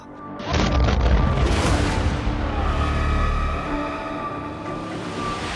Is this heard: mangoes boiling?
no